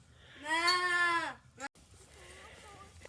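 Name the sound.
goat bleating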